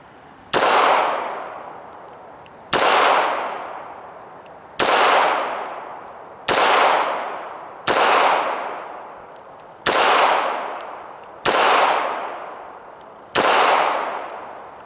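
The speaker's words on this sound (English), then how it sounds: "I'm going to shoot some headshots now, again 5 yards away" Eight loud, evenly spaced shots from a Sig 290RS 9mm pistol fired at a target five yards away, each a sharp crack followed by a long ringing decay, roughly every two seconds.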